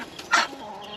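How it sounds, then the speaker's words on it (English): Backyard chickens give a quick, near cluck or two while feeding on cleared melon patch scraps, short and moderately loud over quiet outdoor background. "It's going to be perfect for my chickens."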